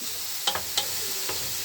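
Red and green peppers being sautéed for seafood paella: a soft, continuous sizzle in the pan, broken by a few quick utensil scrapes and taps, close and with no talking.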